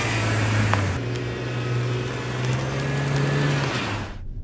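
A Mercedes S65 car drives along, its engine holding a smooth, steady low drone close by with slight shifts in pitch and a constant road rush underneath, with no voices.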